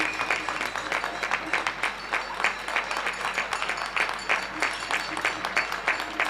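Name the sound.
evening applause from Belleville neighbourhood, Paris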